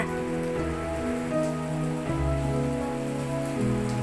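Steady rain patters continuously, with sustained tonal hums layered underneath throughout.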